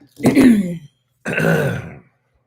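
Two rough, throaty bursts, like a person clearing their throat or coughing, close by with a short pause between them.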